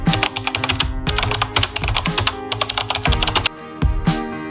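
Rapid, close computer keyboard typing entering a password in a Kali Linux terminal, a dense run of crisp clacking keystrokes with a few short pauses and no voices.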